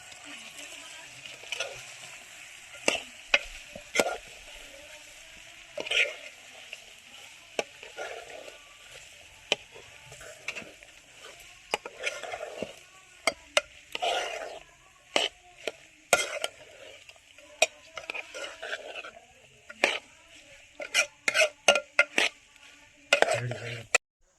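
A spoon stirring and mixing kantola (spiny gourd) sabji in a pan, soft scraping with scattered sharp clicks against the pan, growing busier toward the end, with a faint sizzle underneath.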